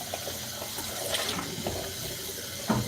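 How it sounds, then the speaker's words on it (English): Dishes being washed under a running kitchen faucet: a steady, close splash of flowing water with small clinks and shifts of the stream, ending in a brief louder knock. "just gonna do the dishes in this one."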